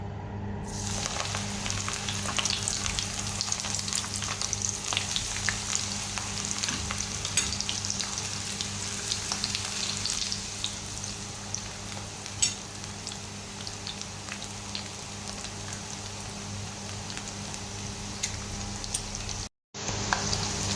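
Water spinach (kangkong) leaves frying in hot oil give off a steady, dense sizzle and crackle that runs on without a break at an even loudness, heard close up with no voices.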